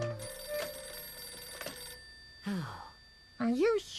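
An old-style telephone bell rings in a cartoon house that has been built upside down, a bright repeated ring for about two seconds, followed by short sliding vocal noises.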